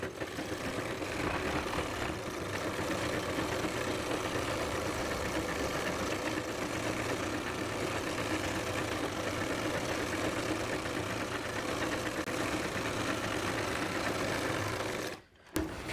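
An electric sewing machine stitches trousers in a fast, even, continuous whir close by, then stops abruptly just before the end.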